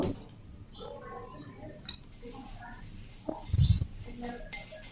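A spatula scrapes and clinks in a pan while coriander, cumin, dried chilies and whole garam masala dry-roast over low heat. The light clatter is close and irregular, with one louder knock near the end.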